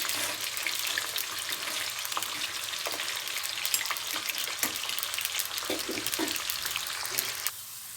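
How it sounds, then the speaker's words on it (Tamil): Green gram frying in oil in a kitchen pan, a steady close sizzle and crackle with occasional stirring clicks, running continuously without talk. "இது வறுபட்டு எடுக்கும்போது இந்த எண்ணெய் வடியாத வரலும் நீங்கள் வந்து சிம்மில் வச்சுருங்க"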